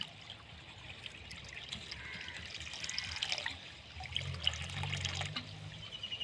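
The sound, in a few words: liquid being poured for mixing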